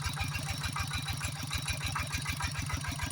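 A Thai two-wheel tractor, the iron-buffalo rot e-taek, runs nearby with a steady, loud single-cylinder chug, rapid even thumps continuing throughout.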